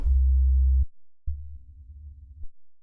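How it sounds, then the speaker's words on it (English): Two low, muffled synthesizer notes in Serum play one after another through a low-pass filter without key tracking, each held for about a second, dull and dark with the high end filtered away. "Without key tracking, those two notes sound like this."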